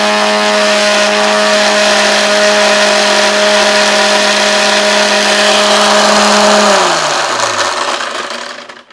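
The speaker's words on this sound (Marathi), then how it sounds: "परत एकदा आपण मिक्सर लावलाय." An electric mixer grinder runs loud and steady at close range, grinding Ayurvedic powder with a constant whine, then winds down near the end as it is switched off.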